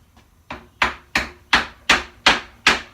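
Seven sharp hammer blows strike at a steady rhythm, close and loud, each with a short ringing decay, the first one light.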